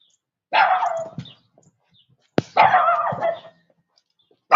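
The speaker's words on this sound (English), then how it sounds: "Hey, Chihuahua." A Chihuahua barking outdoors, two short bursts of sharp yappy barks separated by a pause, close and fairly loud.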